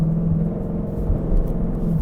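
A 2022 Ford Mustang GT Performance Pack in track mode, its engine giving a deep, steady, throbbing rumble close by with slight pulsing fluctuations and no voices.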